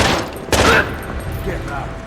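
Gunfire in the Xbox video game Tom Clancy's Rainbow Six 3 during a bomb mission firefight, a loud burst of shots cracking out mid-clip over shouted voices and game noise.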